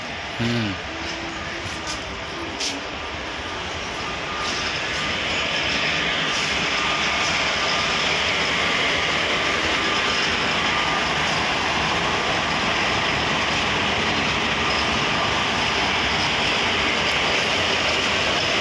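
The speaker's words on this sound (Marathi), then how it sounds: "आणि आता ही मालगाडी आलेली आहे." A freight goods train arrives at a railway station, a loud broad continuous rumble and roar that swells and holds steady, with a brief voice talking near the start.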